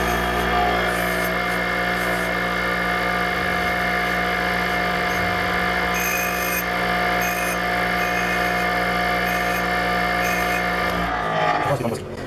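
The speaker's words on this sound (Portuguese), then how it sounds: "Vamos lixar essa daqui." A ceramic lathe cutting tool bit is ground against a sanding or grinding wheel, a loud continuous whirring motor with steady abrasive hiss throughout, winding down at the end.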